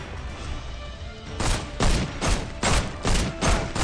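Rapid gunfire in the VR game Ancient Amuletor: six loud, evenly spaced shots fire at a steady rhythm after a quiet lead-in, each a sharp crack with a short tail.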